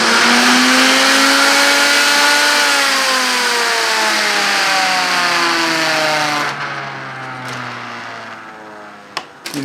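Alloyworks electric radiator fan on a Mustang whirs loudly and steadily, its tone slowly dropping as it spins down, and a couple of sharp knocks follow near the end.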